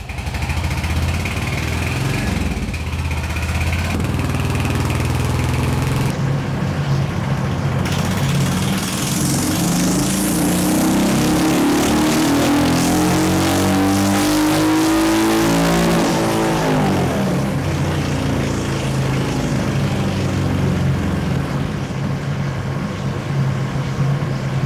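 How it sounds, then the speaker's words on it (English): A stock fuel-injected Royal Enfield Hunter 350 with a free-flow DNA air filter runs on a dyno. Its engine drones loud and steady, then climbs through a long rising rev sweep before dropping back. "we now need to run it up on the dyno and see if we've turned air into power"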